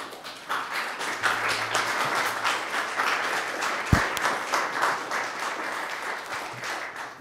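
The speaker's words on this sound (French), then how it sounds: "J'ai constaté que vous applaudissiez vous-même, vous applaudissiez ce que vous alliez faire." An audience applauds after a question-and-answer talk, a steady patter of many hands that swells and holds for several seconds, with a single sharp knock partway through.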